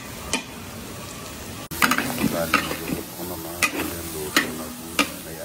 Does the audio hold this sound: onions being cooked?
yes